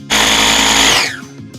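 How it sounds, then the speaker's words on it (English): A food processor loudly blitzes lemon zest with sugar in one steady burst of nearly a second, then winds down and stops, leaving a faint clunk. "I'm going to blitz it because I want all the oils and all the wonderful flavors from the zest to incorporate with the sugar."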